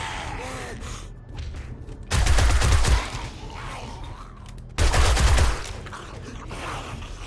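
SMG gunfire in the video game 7 Days to Die, two loud bursts of rapid shots about a second long each, separated by quieter background with faint breathing.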